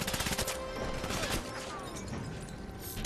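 Rapid gunfire from the 007 Legends Goldfinger level, a quick burst of close shots at the start that trails into a busy, rumbling game mix with no talking.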